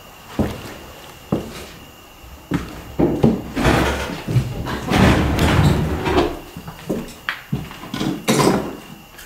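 The front door of an abandoned house bangs amid scattered knocks and thumps, with a dense stretch of rattling and shuffling noise in the middle, close and loud, with no talk.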